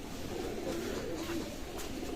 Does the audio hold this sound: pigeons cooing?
yes